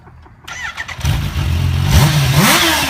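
A Kawasaki Ninja H2 motorcycle engine cranks and fires up, catching after a brief starter whir, then settling into a loud idle before two sharp revs rise and fall close by.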